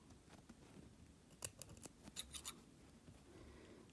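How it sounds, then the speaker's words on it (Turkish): Scissors snip the loose threads of a freshly slit buttonhole on fabric, a few short, crisp close-up clicks clustered in the middle of an otherwise quiet moment. "Makasımla kesiyorum."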